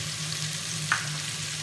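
Green coriander, chili and their paste added to mash daal frying in a pot, giving a steady soft sizzle with one brief stir or plop, close and quiet, without talk.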